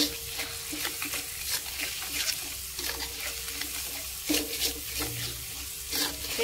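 Sambal with salt, seasoning and sugar stir-fried in a pan for tempeh geprek: a constant close sizzle overlaid with repeated spatula scrapes and clacks against the pan, louder bursts now and then, with no speech.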